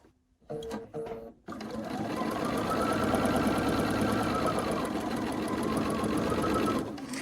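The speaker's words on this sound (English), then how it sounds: "as I'm sewing, I want to make sure that I'm catching both layers" Two overlapped layers of quilting fabric run through a sewing machine in one steady, close, continuous stitching run lasting several seconds, after a few brief clicks of handling at the start.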